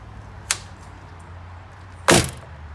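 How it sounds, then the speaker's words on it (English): A Lippert screen door on a new 2020 Grand Design Solitude 344GK fifth-wheel RV clicks lightly, then closes a moment later with a loud, sharp slam, close by and alone. "slams that screen door for you."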